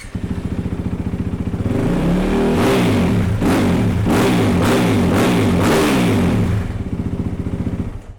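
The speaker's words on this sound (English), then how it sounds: "I'm gonna fire it up. Bike starts really good." A Yamaha WR 450 dirt bike engine runs close and loud, idling with a rapid even thump, then revved in a series of sharp rising and falling blips before settling back to idle.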